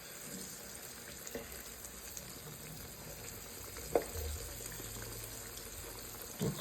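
Pork chops frying in a pan at a home stove, giving a steady soft sizzle with faint watery crackle, a couple of brief clinks or stirring knocks rising above it, no talk.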